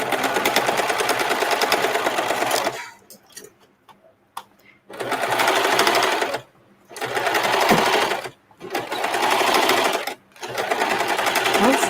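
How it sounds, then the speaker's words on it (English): Sewing machine stitching around the inside of a garment, close rhythmic whirring runs in several bursts separated by short pauses. "So I'm going to be sewing around on the inside."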